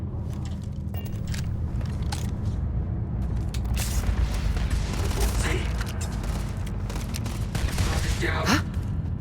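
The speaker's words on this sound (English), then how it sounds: "There's some amount of firing happening." Gunfire in the space shooter game Starfield, scattered shots and bursts within a dense, noisy combat soundscape with mechanical clanks, steady and fairly loud, with voices mixed in.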